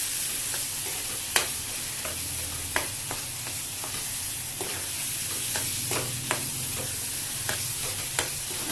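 Masala for paneer masala frying in oil in a kadhai, a steady soft sizzle broken by irregular scraping clicks of a spoon stirring, fairly quiet and without talk.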